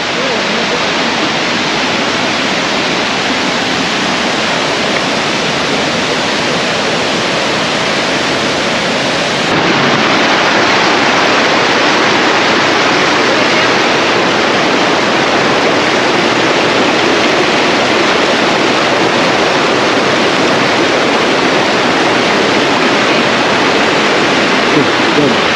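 Waterfall on a jungle trek at Bukit Kokol, a loud, dense, continuous rush of falling water that swells slightly louder partway through, with no other sounds standing out.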